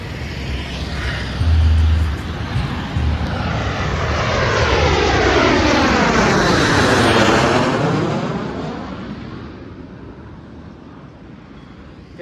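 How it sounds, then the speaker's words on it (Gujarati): A fixed-wing airplane passes overhead during a roadside stop on a road trip in Gujarat, its loud engine roar swelling, sweeping down in pitch as it goes by and fading away over several seconds. "વિમાન આવે છે, આગળ તમે જોજો ખાલી એનું."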